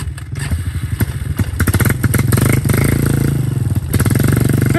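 A motorcycle engine runs loud and close as the bike is reversed outdoors, with a steady pulsing idle that rises into revs, joined by clattering and a few thuds.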